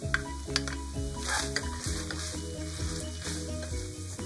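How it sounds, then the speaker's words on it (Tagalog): Garlic sautéing in a pan for an eggplant dish, a steady close sizzle of frying with scraping stirs and light utensil clinks, no voices. "Gigisa po natin sa bawang."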